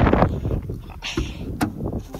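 Wind gusts buffet the microphone on a freezing outdoor off-road driving course with a Land Rover Discovery 5, a low, uneven rumble that rises and falls over the whole moment.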